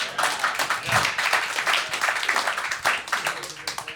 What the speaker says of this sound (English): Oh, that one got applause.